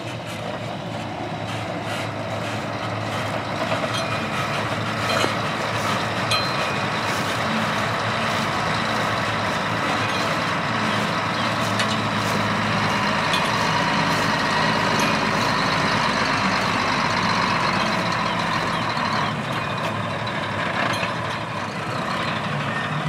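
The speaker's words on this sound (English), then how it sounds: "This R-Series Mack truck is fitted with a seed tender that will fill the tank up" A Mack R-Series truck fitted with a seed tender rumbles steadily nearby on a farm field during soybean seeding, its engine drone continuous and loud throughout with faint beeping in the background.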